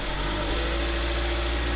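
A 2019-or-newer Ram ProMaster City engine runs right after cranking, a steady low rumble and hum at close range, loud and unbroken, with no voices.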